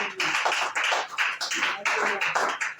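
Steady clapping from a school seminar audience, a dense run of overlapping hand claps with uneven pulses, close and sustained with no talk.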